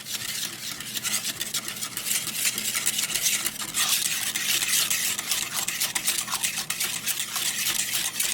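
Aioli being worked in a mortar with a pestle while olive oil is added a little at a time, giving a steady wet stirring and scraping sound of moderate loudness with no talk.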